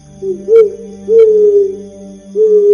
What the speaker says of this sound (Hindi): कुछ देर चलने के बाद उन्हें उल्लू की भयानक चीख सुनाई दी